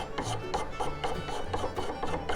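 Varnish scraped off a wooden hatchet handle: close, steady rhythmic rasping strokes, about four per second, each a short dry scrape against the wood.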